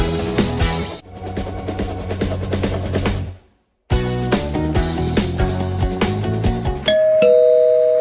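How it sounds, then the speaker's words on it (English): A doorbell plays a long multi-note chime melody, loud and close, with a short gap of silence, then one final sustained ding at the end. "Well, that sounds like the doorbell."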